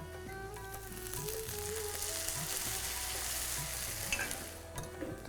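Steady loud sizzling of potatoes frying in a pan, with occasional scraping and stirring sounds throughout.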